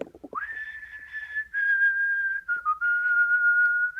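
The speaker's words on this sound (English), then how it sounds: "If we were playing RimWorld, I could whistle the RimWorld theme." A person whistles the RimWorld theme off-key, producing long sustained wavering notes with a brief dip and pause midway, loud and close with no talking.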